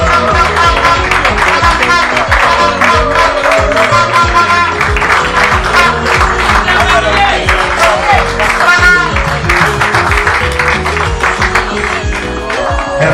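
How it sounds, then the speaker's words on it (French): Applause for the bride at a civil wedding ceremony in a town hall, a steady loud wash of clapping from the guests that continues throughout, with music and voices mixed in. "Applaudissez pour elle."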